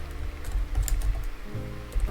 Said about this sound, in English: I'm typing kind of stupidly because I have to reach around my microphone